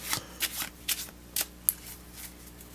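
Playing cards are shuffled close by in several quick, crisp riffling bursts with short pauses between them, and no voices.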